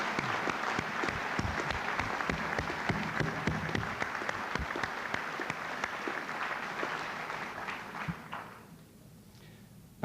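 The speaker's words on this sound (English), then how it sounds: "Shall we have another break for applause?" Dense, sustained audience applause fills a UCL graduation ceremony hall in 1996, then drops away sharply near the end to a quiet room.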